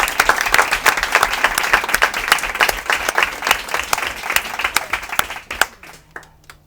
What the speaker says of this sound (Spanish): les pido un gran aplauso para ellos